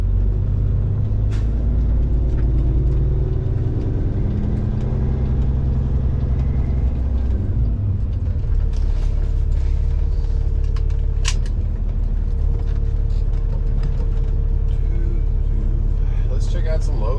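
A Kenworth W900 truck engine rumbles low and heavy without pause, shifting its tone about halfway through as it settles into a steady run, with a voice talking over it.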